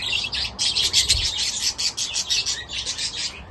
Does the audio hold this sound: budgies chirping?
yes